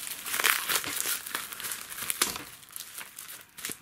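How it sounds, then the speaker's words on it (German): Plastic shrink film being peeled and crinkled off a Blu-ray steelbook, close and continuous crackling with sharper tearing snaps, no voices. "Wir machen mal die Folie runter"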